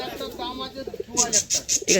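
At a pigeon market, soft pigeon coos and brief calls sound close, with a short rhythmic burst of cooing near the end, under faint nearby talk.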